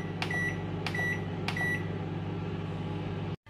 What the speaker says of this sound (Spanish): La he metido en el microondas, tapada por supuesto,